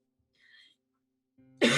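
A single sharp cough bursts out loud and close at the end, after a faint quiet stretch with a low hum and a soft murmur.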